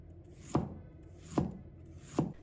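A knife chops fresh ginger on a cutting board, three crisp, evenly spaced strikes close up with quiet pauses between them, while sliced ginger is cut into fine strips for a pickled-mustard-green fish dish.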